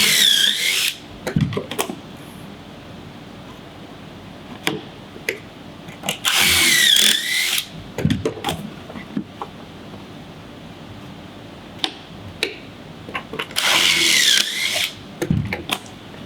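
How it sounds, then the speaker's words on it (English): A power drill bores pocket holes into wood for a children's hall tree, three loud whirring bursts of a second or two each, separated by quieter handling clicks. "We're drilling these before we sand, for obvious reasons."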